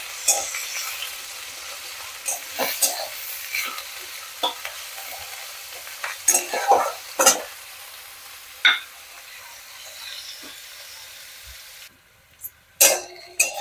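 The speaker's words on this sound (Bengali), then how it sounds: "পেঁয়াজটা হালকা হালকা ভাজা হচ্ছে।" Onions frying in oil in a pan for a Bengali methi saag dish, a steady close sizzle broken by occasional louder scraping stirs of a spatula, no talking.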